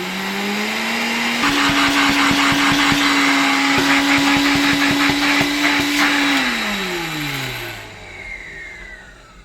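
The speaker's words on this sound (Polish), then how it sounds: "tutaj mogę fajnie regulować mocą odkurzacza" A 1970 Zelmer 01 vacuum cleaner runs close and loud, its motor whining at a steady pitch, rising briefly as the power setting is adjusted, then winding down as it switches off.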